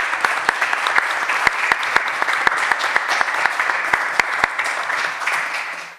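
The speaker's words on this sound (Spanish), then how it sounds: "les pido por favor si damos un aplauso nuevamente para toda la mesa y todos los" Audience applauding a panel of speakers at an academic round table on heritage and critical pedagogy; lively, continuous clapping with sharp individual claps standing out, tapering off near the end.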